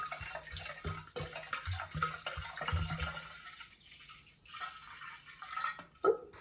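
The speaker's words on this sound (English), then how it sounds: "It feels really nice pouring a red wine actually into a decanter" Red wine is poured into a decanter, a continuous soft liquid trickle with faint splashing and dripping that swells and fades over several seconds, quiet and close.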